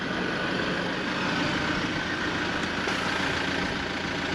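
A car's engine idles steadily while it pumps up the vehicle's airbags. It makes a continuous, even mechanical rumble with a constant hiss that stays level throughout, and no one speaks.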